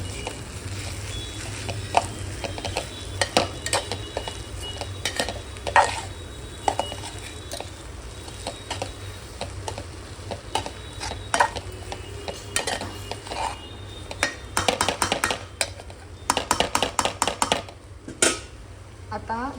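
Potato thecha being stirred with crushed peanut powder and coriander, a spoon scraping and clinking against a metal pot in irregular strokes, with a fast burst of rapid clattering near the end and a low hum beneath.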